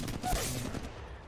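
A quick burst of gunfire from a shooter video game, a short loud clatter of shots over a dense game background.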